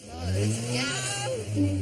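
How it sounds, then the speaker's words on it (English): A car engine revs hard and unevenly at a driving-test start line, building toward a clutch pop, with a steady low drone under a talking voice. "involves over-revving the engine, then popping the clutch."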